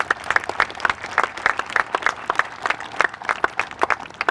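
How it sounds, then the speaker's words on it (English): An audience claps at the opening ceremony of the 2016 Cal Ripken baseball tournament. The applause is a dense, steady patter of many hands that lasts the whole stretch, with no break and no talking over it. "please give Mike a round of applause"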